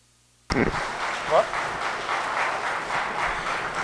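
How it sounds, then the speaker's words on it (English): Crowd applause at a mini Zebu cattle show at the Colorado State Fair breaks out abruptly and holds as a steady, dense clapping wash with a brief swell partway through, while a voice speaks over it. "Let's give them a round of applause."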